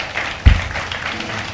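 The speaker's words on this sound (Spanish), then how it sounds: "Dale un aplauso al que vive." A church congregation applauds during a sermon, a brief wash of scattered clapping with one sharp thump partway through.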